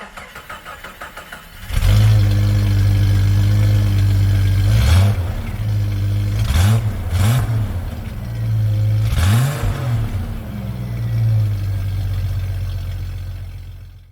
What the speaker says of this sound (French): c'est une nouvelle ligne d'échappement avec nouveau silencieux, mais suppression du catalyseur et un tube Afrique à la place.